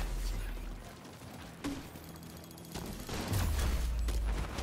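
Rogue sniper turret in The Division 2 firing in rapid bursts, sharp gunshots cracking over dense game noise and a steady rumble, with louder volleys toward the end.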